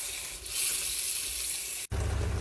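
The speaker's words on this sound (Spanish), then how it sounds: "Aquí ya están hirviendo, le voy a poner los nopales." Pork rib salsa boils in a pot, a dense hissing bubble that runs steadily, then a brief dropout and a louder, deeper bubbling burst close by, with no talk.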